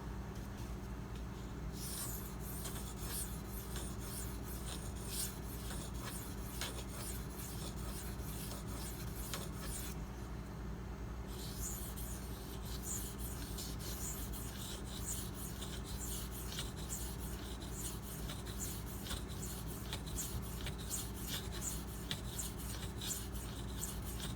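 A Spyderco Dragonfly knife blade rasps against a V-Toku2 whetstone in steady, continuous strokes, close and fairly loud, with brief pauses between passes.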